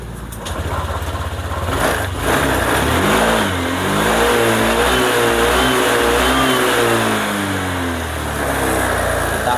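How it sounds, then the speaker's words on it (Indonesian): A car drives past nearby, its mid-pitched engine rising and then fading as it goes by, steady and loud for several seconds, with no talking. "ada mobil lewat"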